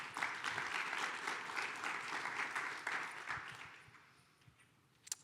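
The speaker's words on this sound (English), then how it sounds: "Can we give them a round of applause?" An audience at a behavioral health innovation business forum gives a round of applause, dense clapping that holds steady and then thins and fades out, ending with a couple of isolated claps.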